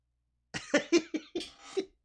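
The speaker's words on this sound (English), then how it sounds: "The coughing should go away." A person coughs several times in a short, close burst of harsh, throaty bursts, with brief pauses between.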